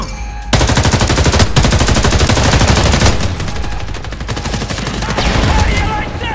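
Rapid automatic gunfire from a firefight in the video game Homefront: The Revolution, Beyond the Walls, bursting in suddenly after a brief quiet start and continuing loud and dense throughout, with shouting voices mixed in.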